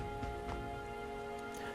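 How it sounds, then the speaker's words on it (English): Steady rain falls over a town in Metaphor: ReFantazio, a constant soft hiss of drops with faint ticks and no voices. "it is raining in town."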